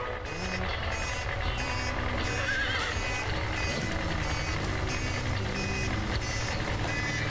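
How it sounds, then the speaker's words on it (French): Cartoon horses whinny over a busy town soundscape with a truck's reversing beeps, a constant, full mix lasting several seconds. "Je ne veux pas entendre le bip-bip des camions, mais le tagada-tagada des chevaux."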